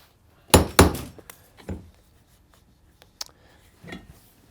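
Hammer blows on the hand-sewn welt of a custom cowboy boot: two loud sharp strikes close together, then several softer taps and light knocks scattered across a quiet bench, with no talking.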